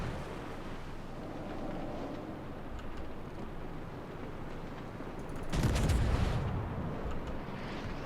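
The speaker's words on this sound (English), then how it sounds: "Is that Nagato firing?" Distant battleship Nagato guns booming in a naval video game, a deep rolling blast swelling midway through over steady low engine and ambient rumble.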